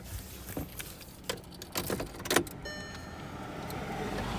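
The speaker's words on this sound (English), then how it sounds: "A bunch of cars driving by." Cars pass by outdoors, a rising and fading road whoosh with some clattering and rattling up close, settling into a steady traffic hum.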